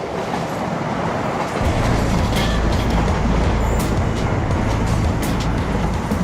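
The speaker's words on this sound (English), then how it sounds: "There's nothing untoward as it's coming past, nobody hanging out the windows, nothing hanging off the train." An East Coast passenger train rolls through a station at close range, a loud continuous rumble of wheels and carriages with deep low-end drone and occasional metallic clacks, without speech.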